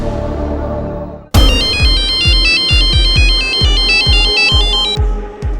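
A brief low murmur, then a loud electronic phone ringtone kicks in with a repeating bright melody over a thumping beat, playing steadily before cutting off.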